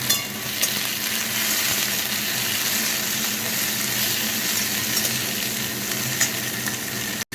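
Onion, tomato, capsicum and green chilli fry in a pan with a steady, close sizzle that holds for the whole stretch. There is no talk, only the odd faint stir.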